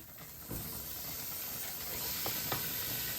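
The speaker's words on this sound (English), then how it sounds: "So you now want to put all your prawns into the pan." Raw prawns fry in a pan for a Cajun prawn pasta, giving a steady, close, broad hiss of sizzling with a couple of light knocks and no talk.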